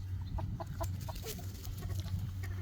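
Chickens cluck softly in short repeated bursts on a farm where ducks also roam, fairly distant over a steady low hum of background noise.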